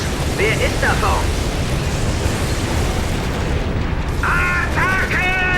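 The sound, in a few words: gunfire and shelling in Codename: Panzer video game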